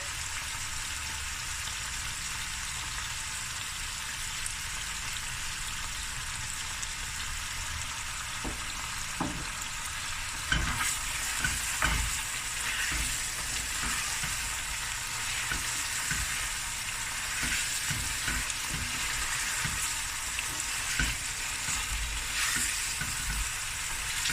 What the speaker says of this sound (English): I'm just going to let this fry through.